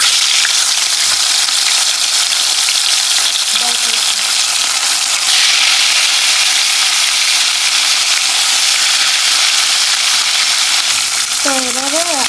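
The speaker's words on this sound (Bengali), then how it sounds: "আজকে তেল অনেক বেশি গরম করে তারপর মাছগুলো ছাড়ব" Fish frying in very hot oil gives a loud, continuous sizzle and crackle, close and steady throughout, with a brief whine near the end.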